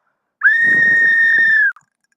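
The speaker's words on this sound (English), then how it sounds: "just blow this whistle" One loud, close whistle blast, a clear steady shrill tone held for just over a second and then cut off, with nothing else around it.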